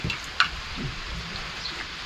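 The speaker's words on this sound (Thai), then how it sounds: "บรรยากาศดีฝนตกดิน" Light rain falling steadily as a soft, even hiss, with a single nearby drip or tap standing out briefly.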